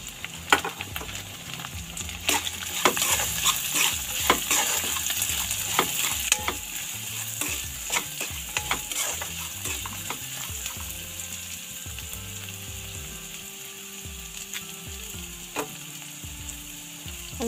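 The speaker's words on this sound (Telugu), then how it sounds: "ఒక సన్నగా తరిగిన ఆనియన్ వేసుకుంటున్నాను." Finely chopped onion sizzling and frying in a pan for vegetable chitranna, a steady close hiss with scraping stirs and clinks throughout, no talking.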